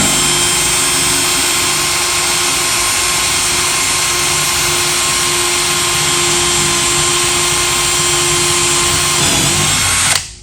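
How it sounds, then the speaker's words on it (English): A power drill whines loudly and continuously at high speed, grinding steadily through a Snap-on toolbox lock with no pauses until it stops at the very end. "if you put your drill bit in here and drill through the lock"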